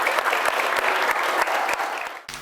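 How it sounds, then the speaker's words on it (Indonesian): An audience claps on request at a school religious event for TK Al-Ikhlas, loud and continuous, then the clapping fades out sharply near the end. "Boleh tepuk tangannya?"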